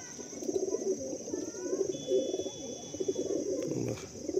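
Pigeons in a loft give low, repeated coos that keep overlapping through the whole stretch, with faint chirps and background hum around them and no talking.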